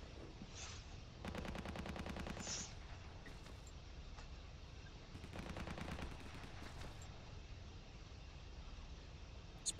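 Two bursts of rapid automatic gunfire in a Battlefield match on the Berlin map, each a tight rattling volley lasting over a second, fairly faint and distant with quiet background between them.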